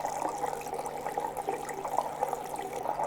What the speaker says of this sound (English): the reason why I'm pouring in 2 bottles of water